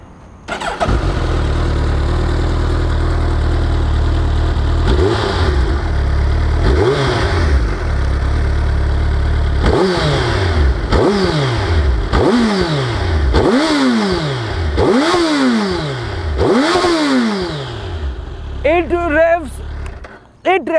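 A Suzuki Hayabusa's 1340cc inline-four motorcycle engine is started, then blipped in a series of sharp, rising revs that drop back quickly. Each rev is loud and close, with a calmer idle between bursts.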